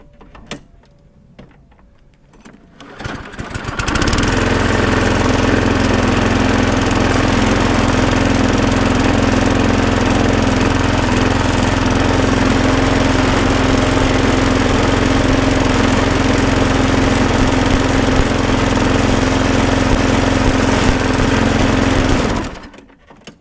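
A small lawn mower engine, freshly swapped in and fitted with a new air filter, fires up and runs steadily at a loud, constant idle for nearly twenty seconds before cutting off.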